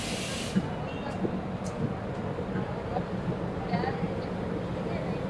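Sapthagiri Express AC train running, heard from on board between Chennai and Tirupati: a steady rumbling roar with hissing air and faint rhythmic clatter, and someone talking over it.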